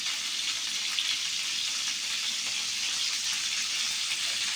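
Rohu fish pieces frying in oil with salt and turmeric, a steady bright hiss of sizzling that holds even and unbroken, close by with no voices.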